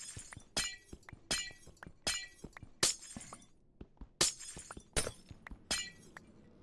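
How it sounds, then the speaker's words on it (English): Rapid, evenly paced crashes of glass panes being broken in Minecraft, each a bright brittle shatter, continuing one after another with a brief pause in the middle and no talking. "Thought I was done with the glass panes yesterday."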